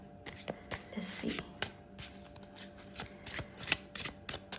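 Tarot cards are shuffled and drawn by hand in a quiet room, a series of soft, close riffling and flicking sounds in irregular bursts, with faint murmuring in the background.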